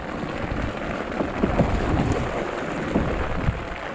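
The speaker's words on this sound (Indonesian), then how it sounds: "Hujan lagi guys." Steady rain pours down in a dense, even hiss, with a few louder drops and low rumbles scattered through it, at sea in bad weather with waves.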